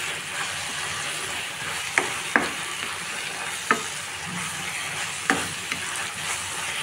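Gongura tomato curry mixed with chili powder is stirred in a sizzling pan, a steady frying hiss beneath a few sharp scrapes and taps of the spoon against the pan, close up, with no talking.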